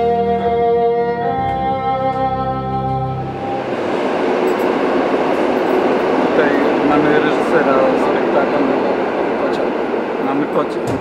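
A train sound effect: after a few seconds of sustained tonal music, a loud, steady rail rumble rolls in and holds to the end at an even level, with no talk over it.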